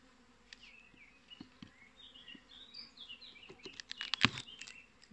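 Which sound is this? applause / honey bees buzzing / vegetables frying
honey bees buzzing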